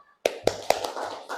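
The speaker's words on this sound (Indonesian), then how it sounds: "kita tepuk semangat lagi yuk" Classroom of students doing the rhythmic 'tepuk semangat' clapping chant, with several sharp, close claps in a quick pattern followed by a softer murmur of voices.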